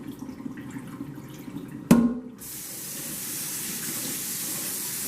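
A sharp clatter, then running water pours steadily into a basin of rice being washed, a continuous rushing splash that carries through to the end.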